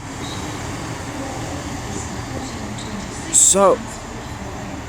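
A Class 158 diesel unit, 158839, rumbles at Shrewsbury station under a low, steady drone of platform ambience. A brief high squeal rises late in the clip, and someone says a single word.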